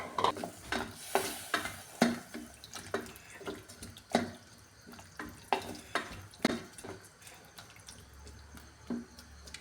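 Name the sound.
second coconut milk poured into sautéed vegetables, stirring and sizzling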